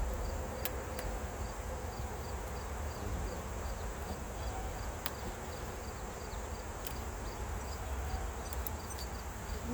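Honey bees buzz around an opened hive during a honey harvest, in a dense, constant drone with a few sharp clicks of handling mixed in.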